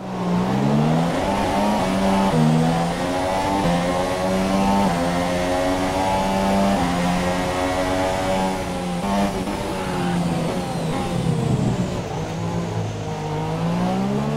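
A pack of high-revving Formula 1 car engines in the video game F1 2017 screams loudly together at the race start, pitches climbing and shifting as the cars accelerate, with no voices.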